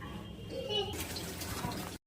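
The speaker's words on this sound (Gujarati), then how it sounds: "આ આપણી પોવા હે એને આપણે પાણી થી ધોઈ નાખીએ" Poha, flattened rice, is rinsed with water in a home kitchen, giving a soft running, splashing wash that grows a little brighter halfway through before cutting off abruptly.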